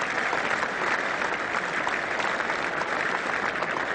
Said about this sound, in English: Applause for every run, and the heavier applause,